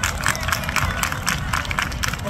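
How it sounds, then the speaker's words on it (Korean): A large crowd claps and cheers to welcome performers at a university song festival, a dense steady burst of applause mixed with voices throughout. "큰 박수로 맞이해보겠습니다."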